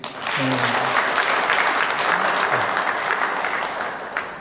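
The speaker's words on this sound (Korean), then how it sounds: "박수 한번 우리" A church congregation breaks into applause during a Sunday sermon, a dense, sustained roar of clapping with a voice briefly heard over it at the start.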